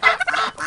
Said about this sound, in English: What's your name, fat little turkey?